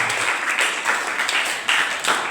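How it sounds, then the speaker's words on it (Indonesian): Audience applause for a guest speaker at a school civic-education session in a high school hall, a short burst of clapping at steady moderate loudness with a few louder swells. "Tepukan untuk Pak Mega"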